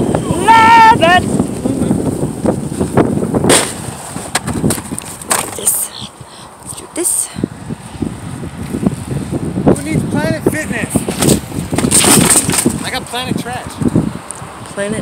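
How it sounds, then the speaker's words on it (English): Strong outdoor wind buffeting the microphone in loud, uneven gusts, mixed with rustling and passing vehicle noise while a person talks over it. "Boy, I'm loving this wind."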